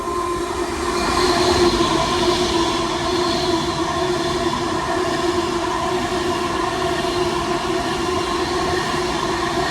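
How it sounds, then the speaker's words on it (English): Avanti West Coast passenger train passing through a station on the West Coast Main Line, a steady loud rumble and rail roar sustained throughout with no break, close by. "About to pass through for Avanti West Coast is going to be 39115, running from London Euston to Manchester Piccadilly via Wilmslow."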